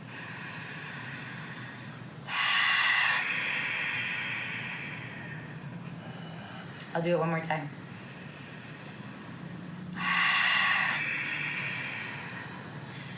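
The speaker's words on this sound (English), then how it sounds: "the back of the throat. And that's what Ujjayi breath is." Slow Ujjayi breathing practised during a pranayama session, with long hissing exhales through a constricted throat, two strong breaths separated by a brief spoken phrase, close and clear.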